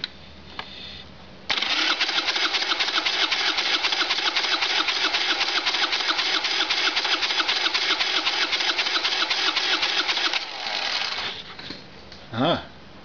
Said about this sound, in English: Front cylinder compression test with the throttle wide open.